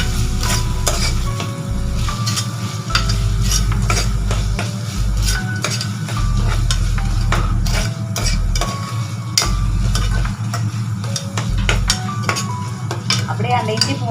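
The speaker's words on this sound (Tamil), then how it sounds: "இஞ்சி பூண்டு பேஸ்ட் சேர்த்து நல்லா வதக்கி விட்டுக்கலாம்." Ginger garlic paste sautés in a pan for chicken, with a steady sizzle broken by repeated sharp clinks and scrapes of a spoon stirring against the metal.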